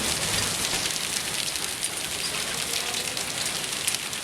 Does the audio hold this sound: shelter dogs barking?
no